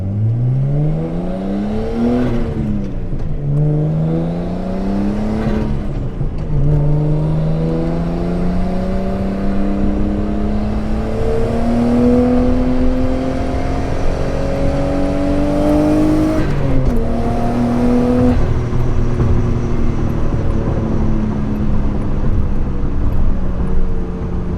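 A Nissan R32 Skyline accelerates hard through a curve, heard loud and close from inside the car, its engine climbing in pitch through several gears with brief dips at each shift.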